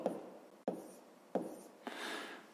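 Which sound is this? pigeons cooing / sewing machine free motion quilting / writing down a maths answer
writing down a maths answer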